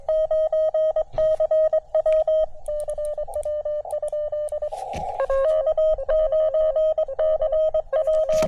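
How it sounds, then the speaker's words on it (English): CW Morse code on amateur radio during a POTA/SOTA outing at Sugar Hill State Forest, a clear keyed tone in rapid dots and dashes over faint static, with a second weaker signal joining briefly, no speech. "I heard CW in there."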